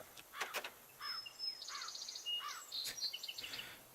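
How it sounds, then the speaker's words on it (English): Soft chirping from an egg in the game Bastion comes as scattered short bird-like tweets and sweeping chirps over faint insect-like trilling, fairly quiet and unhurried. "Do you know if this egg is supposed to be making a muffled chirping sound?"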